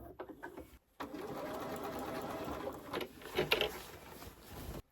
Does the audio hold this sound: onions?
no